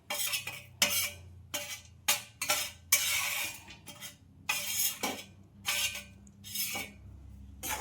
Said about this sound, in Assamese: এইখিনি আটাইখিনি মই এনেকৈ মিহলাই লৈছোঁ